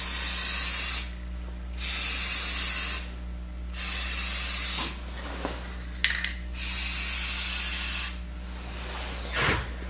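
Spray paint hisses onto a BlackHawk Serpa holster for a second coat, in four long, loud, steady bursts separated by short pauses and light handling clicks, over a constant low hum.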